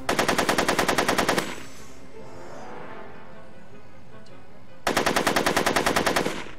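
Rapid automatic gunfire in the PC Back to the Future video game, two loud sustained bursts of evenly spaced shots separated by a quieter stretch of background ambience.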